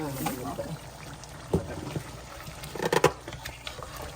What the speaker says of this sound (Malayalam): പച്ച വെളിച്ചെണ്ണ ഒഴിക്കണം ഇച്ചിരിയും കൂടെ